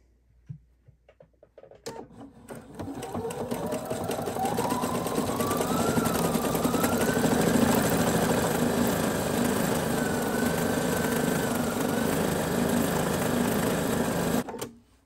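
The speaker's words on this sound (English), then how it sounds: "I'm gonna do needle stop down and just stitch all the way around the heart with a fixed stitch" Sewing machine stitching around a heart appliqué on a t-shirt dress, starting after a quiet moment and running as a steady, loud mechanical whir with rising motor pitch that holds until stopping near the end, no talking.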